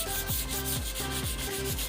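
Sandpaper rubs across a wooden door in quick back-and-forth strokes, a steady rhythmic scraping roughly four passes per second, close and alone.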